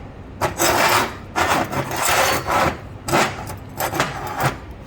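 Repeated rasping strokes of a file taking material off the lower leg of a thin TIG-welded metal mount, about eight rough back-and-forth passes, loud and close.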